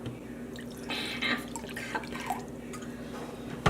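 Half a cup of Khmer vinegar is poured, giving a bright liquid splash and trickle that swells about a second in and then drips and dribbles sporadically, close and fairly clear with no talking.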